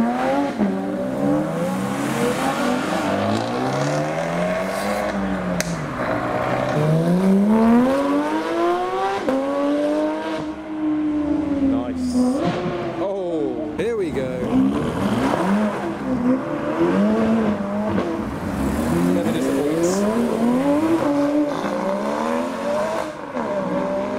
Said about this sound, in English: a 992 GT3 pulling in as well